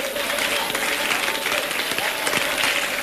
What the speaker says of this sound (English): clap your hands, clap your hands, clap your hands, clap your hands.